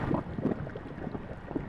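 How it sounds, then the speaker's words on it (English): A water sound effect played from a laptop and routed through a Eurorack modular synthesizer: a continuous, dense, washing noise with soft gurgling swells, steady and fairly loud, with no talk. "So I'm playing water sounds out of the laptop"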